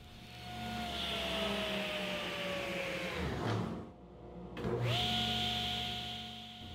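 A power saw rips 3/4 inch MDF into 3.5 inch casing strips, a steady whining cut that winds down, pauses briefly, then spins back up for another pass at moderate volume.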